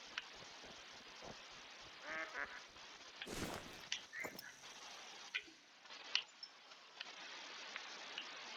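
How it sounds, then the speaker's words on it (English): Ducks quack in the hunting game Call of the Wild, scattered short calls at moderate distance over faint ambient noise, with a few brief clicks and a louder burst midway. "Got some ducks coming in"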